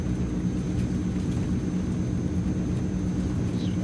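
Engines of a Transall C160 twin-turboprop cargo plane roar steadily at takeoff power in Microsoft Flight Simulator, a loud, constant droning rumble with a faint high whine running through it.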